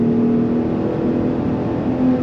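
2022 Ford F-150 Raptor engine accelerating, a loud close growl with a steady tonal hum and road noise, holding fairly constant throughout without talk.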